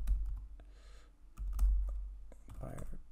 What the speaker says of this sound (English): please excuse me if I'm typing as I go